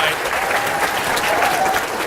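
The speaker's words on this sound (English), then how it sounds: "let's give another round of applause for our competitors" An audience at a high school quiz competition final applauds the competitors, a dense steady clapping from a crowd that runs through the whole moment.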